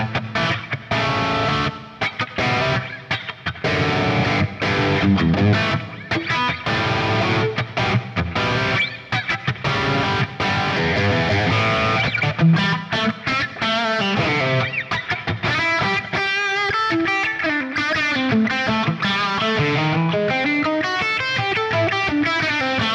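A PRS Mark Lettieri Fiore electric guitar plays through distortion, first with driven chugging rhythm chords, then with sustained, bending lead lines, loud and alone with no talking.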